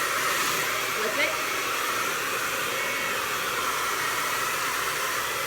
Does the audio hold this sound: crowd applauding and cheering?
no